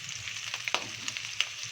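Meat sizzles with garlic in a hot pan, a steady bright crackle with scattered sharp pops and a few spoon scrapes, close and fairly quiet, with no voices.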